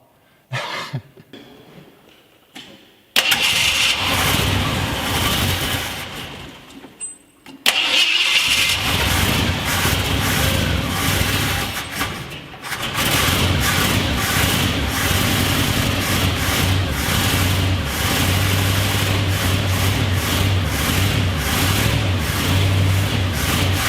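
A revived Ford F250 project truck cranks a few times, coughs and catches, then settles into a loud, steady idle that runs close and uninterrupted for most of the stretch, with no talking.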